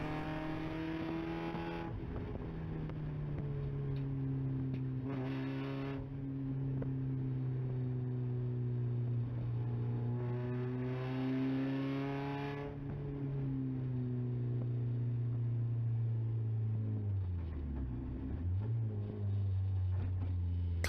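An early-generation Mazda Miata race car in an endurance race drones with a steady in-car engine note, shifting pitch through gear changes and easing off briefly before revving again, loud and continuous.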